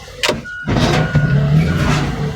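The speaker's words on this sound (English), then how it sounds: "I like watching these cars crush." A hydraulic car crusher grinds down on junk cars, a loud, close, sustained mechanical groan and creak preceded by a short sharp clank, with no talking.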